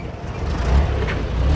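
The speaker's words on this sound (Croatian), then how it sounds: "Skoro se auto zabio u nas." A car passes very close on a roadside in Kyrgyzstan, heard by hitchhikers on foot: a loud, steady low engine rumble that swells near the middle and again at the end, with no voices.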